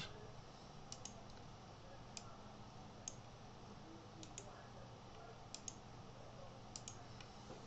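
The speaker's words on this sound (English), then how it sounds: "I type in my message" Light tapping on a computer keyboard while a message is typed, a few soft scattered key clicks over a constant low hum of room noise, faint and irregular.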